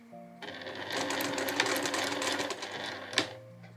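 A sewing machine bastes a tag onto a two-tone 2-way shoulder bag, running in a rapid, close stitching burst for about three seconds after a short pause and then stopping.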